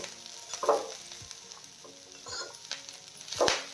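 Chighal leafy greens bhaji being stirred in a pan, a soft continuous sizzle broken by a few louder scraping strokes of the spoon at irregular intervals.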